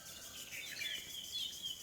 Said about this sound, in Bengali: চারিদিকে পাখির কিচিরমিচির আওয়াজে সকালটা যেন একদম মধুময় হয়ে